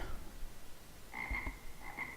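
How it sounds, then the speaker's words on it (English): A deep frog croak from a video game sound effect, a couple of resonant, ribbity calls in the second half over a low ambient hum, with no talking. "Low frog."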